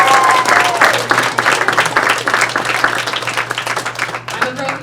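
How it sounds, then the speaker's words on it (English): A theater audience applauds in a loud, dense burst of clapping that runs steadily throughout, with a few cheers and whoops rising over the crowd. "So can you give yourselves a round of applause?"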